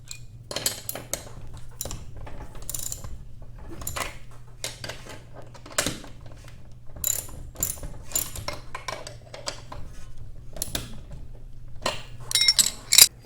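Ratchet tightening the pulley bolts during a garage door torsion spring replacement: rapid, steady metallic clicking with clinks and taps, close up, running throughout over a low hum.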